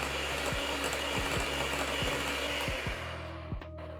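Electric hand mixer beating eggs into vanilla cake batter, a steady close motor whir with faint rhythmic knocks of the beaters against the bowl, running alone and easing slightly toward the end.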